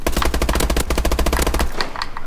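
Rapid automatic gunfire rattles loudly in Call of Duty: Advanced Warfare, a fast even burst of shots lasting about a second and a half before trailing off into a few scattered reports.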